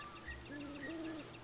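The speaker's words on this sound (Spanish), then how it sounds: "Hay un búho en la torre." An owl in the Zelda Majora's Mask game on the N64 gives a short, soft two-part hoot. It is faint and alone over a low background hum, with no talking.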